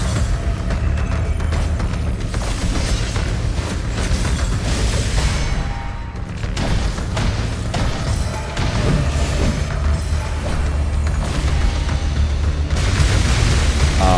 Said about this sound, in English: that's the wind attack